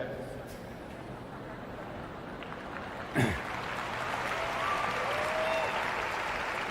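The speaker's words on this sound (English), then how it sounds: "That's why you're clapping, it's all right." Live audience at a large outdoor Save Soil event in Delhi clapping steadily throughout, a dense broad wash of applause with a brief sharp burst partway, under a faint speaking voice.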